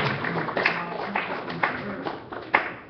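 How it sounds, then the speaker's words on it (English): Scattered audience clapping rises for a live broadcast guest, uneven claps with a few sharp louder hits, fairly close, while voices murmur underneath. "give Murphy a big round of applause for being my model"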